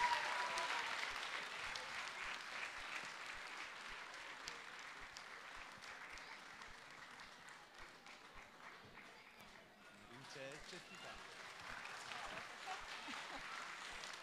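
An audience at a children's song festival applauds a performer coming on stage. The clapping is sustained and dense throughout, easing briefly near the end before swelling again.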